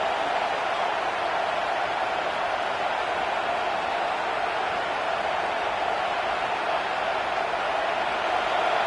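A big stadium crowd roars during an American football game on third down, a loud, sustained wash of noise that holds steady without letting up.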